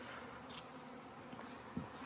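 A honey bee swarm buzzes outdoors as a steady, moderately loud drone that holds throughout, with no talking.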